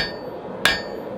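A single sharp hammer strike lands on hot Damascus steel at a forge, ringing briefly over a steady background hiss.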